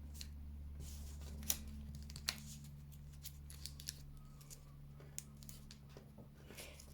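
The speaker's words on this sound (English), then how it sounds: "you want to fold the outside corners into the middle" Paper being folded by hand for a children's craft, with soft, close crinkles and a few sharper creases tapping out irregularly over a low steady hum.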